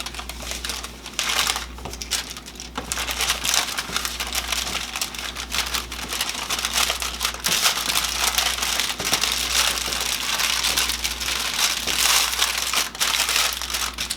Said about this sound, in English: I'm just going to roll it right back up in this wax paper.